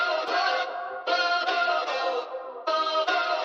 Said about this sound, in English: I basically just pitched the sample up a few semitones and sped it up a bit